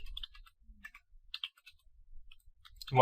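A computer keyboard is typed on in short, scattered bursts of quiet clicks with pauses between them. A louder sound starts right at the end.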